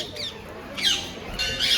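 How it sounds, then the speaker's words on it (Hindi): A parrot near a Ganga riverside temple at Shukartal lets out harsh, loud squawks, with a brief call and then two strong screeches in quick succession, close by over a faint background hum. "ये देखिए तोते की तेज आवाज़ सुनिए।"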